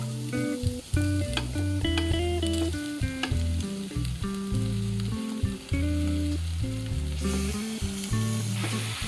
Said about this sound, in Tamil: இப்போ நம்ம எடுத்து வச்சிருக்கிற பாஸ்தாவை கொஞ்சம் கொஞ்சமாக சேர்த்துருவோம்